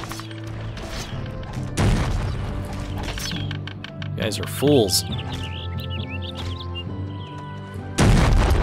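Heavy cannon booms in the medieval strategy game Settlers: Heritage of Kings, a few loud thuds and crashes spaced out amid battle noise, with game voices talking over them.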